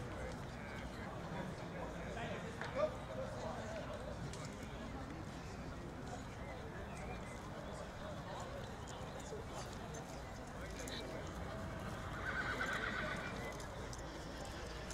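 A steeplechase mare at a sale ring, faint hooves clip-clopping and a short whinny amid a murmur of crowd chatter and a commentator talking.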